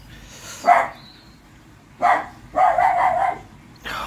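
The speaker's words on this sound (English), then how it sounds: "Bloody dog." A dog barks in several sharp, loud bursts close by, with a longer run of rapid barking near the middle and pauses in between, recorded outdoors while a green-waste wheelie bin is being converted into a grow tank.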